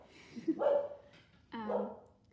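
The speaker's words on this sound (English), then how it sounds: "Sorry, the dog's barking." A dog barks indoors, two short barks with a brief whine, fairly close and moderately loud against a quiet room.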